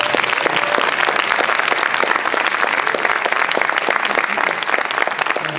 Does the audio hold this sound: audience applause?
yes